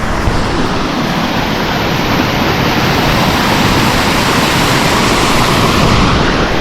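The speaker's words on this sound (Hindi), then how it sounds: "अभी मैं आ गया हूँ लपासा वाटरफॉल के टॉप पे" Lapas waterfall in Barot Valley roars as a dense, constant wash of falling water, loud and close throughout with no other sounds.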